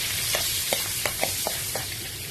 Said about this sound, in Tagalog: Ibigisa lang natin yung luya.